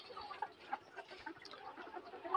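Layer hens clucking softly in a poultry shed, a few faint scattered clucks and squawks, low and somewhat distant, with no talking.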